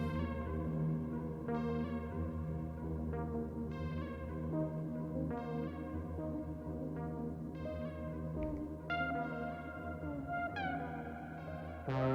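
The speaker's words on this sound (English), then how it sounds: "Add some fog. Nice sounding reverb." Long washy reverb tails smear the repeated plucked tones of a Eurorack modular synth playing ambient generative music, each note blooming and decaying into a steady, droning haze.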